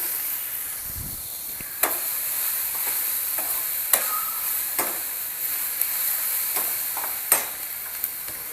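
Grated ginger-garlic stir-fries on a high gas flame for Chinese bhel, giving a steady soft sizzle and hiss punctuated by several sharp utensil taps against the pan.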